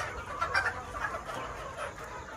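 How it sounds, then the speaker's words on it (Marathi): Free-range country chickens clucking on a poultry farm, with a soft, steady murmur of calls from several birds at a moderate distance and no talking. "मित्रांनो सगळ्या कोंबड्या वरती गेलेल्या आहेत आणि हे बघा"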